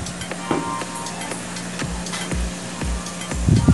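Tuna flakes balls fry gently in a pan over low heat, a soft steady sizzle with faint crackles and occasional stirring taps, a louder burst of spattering near the end.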